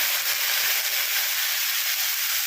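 Water poured over potatoes frying in a pan for aloo posto gives a steady, loud hiss and sizzle that holds evenly throughout, with no talking.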